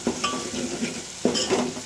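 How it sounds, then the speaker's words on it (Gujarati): A spoon stirs turmeric into chillies cooking in an oiled pan, giving soft scraping strokes with faint light clinks and a low sizzle for a couple of seconds. "તેને હલાવી લેવાની।"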